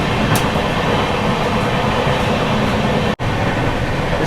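Express Tejas Rajdhani train rushing at speed through Sultanganj station without stopping, a loud steady roar of rail noise throughout with a brief sharp dropout near the end.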